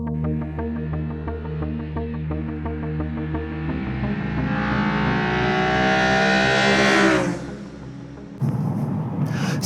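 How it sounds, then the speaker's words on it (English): A BMW E92 M3 accelerates past, its engine note climbing steadily in pitch and growing louder before fading away abruptly. "Nice E92 M3 there."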